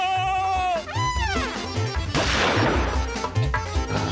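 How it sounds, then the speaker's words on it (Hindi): A sharp, loud cartoon gunshot from a Motu Patlu animated movie bursts out midway and decays into a noisy rumble, set against dramatic music that plays throughout. "मुझ पे गोली चलाया।"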